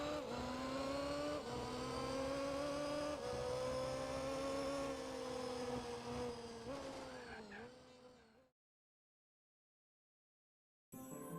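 A car engine from a PS2 racing game holds a steady, droning hum with a few gear shifts, then fades away into silence before a short burst of sound returns at the end.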